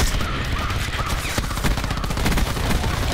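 Rapid, dense gunfire in Black Ops 4 multiplayer, loud continuous bursts of shots packed tightly together for the whole stretch with no pauses, close and harsh.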